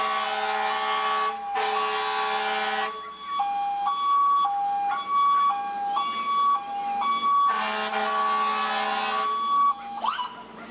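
A fire department truck in a county fair parade sounds its siren close and loud, wailing and yelping tones cut by blasts of an air horn, alone without talk.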